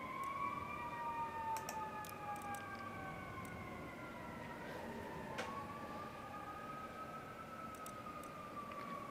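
An ambulance siren wails as it passes outside near a hospital, its rising and falling tones sweeping continuously and dipping in pitch as it goes by, moderately distant over steady background hum.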